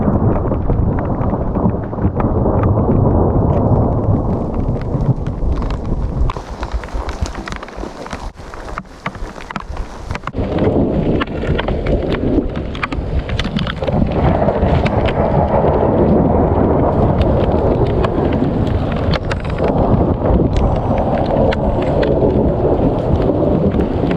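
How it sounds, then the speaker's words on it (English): Heavy rain pours steadily while deep thunder rumbles and cracks loudly throughout, with gusts buffeting the microphone in a close, intense storm. "There's thunder everywhere. Lightning and thunder."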